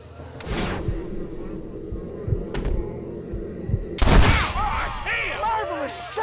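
Gunfire in Red Dead Redemption, a few sharp, heavy shots spaced apart with thumping impacts, followed by a louder blast and ringing tail, with voices speaking between them.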